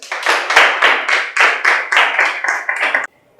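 A small group claps in a steady, even rhythm of about a dozen sharp, close hand claps over three seconds for a college student named Alice, then stops abruptly into near silence.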